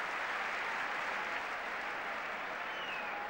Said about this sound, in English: Applause rings round the ground.